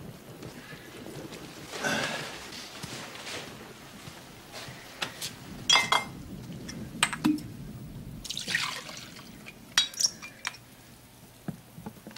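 Whiskey, no ice, being poured into a glass indoors: faint liquid trickling and splashing under several sharp glassy clinks, quiet and close, with no one talking.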